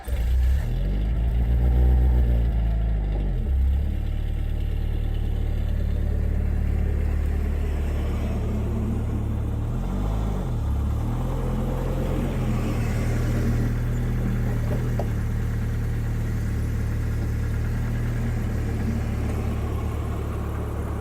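A Chrysler LeBaron car engine rumbles steadily at low speed as it is driven into a garage, a close, continuous mid-pitched drone with a couple of brief revs near the start and around ten seconds.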